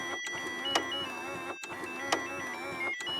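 A digital alarm clock's ringtone: a steady electronic tone pattern with sharp accented bursts recurring about every 1.4 seconds, close and alone.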